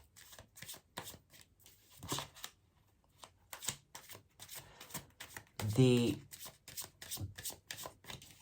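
Tarot cards being shuffled and drawn, with a run of quick, crisp riffling bursts and card snaps coming close together, while a person talks quietly in between.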